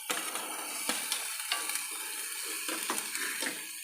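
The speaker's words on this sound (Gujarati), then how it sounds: "આને સરસ રીતે હલાવી લેવાનું છે" Coriander-cumin spices for Kathiyawadi chana ghughri frying in a pan while a spoon stirs them: steady soft sizzling under repeated close scraping and light clinks, with no voices.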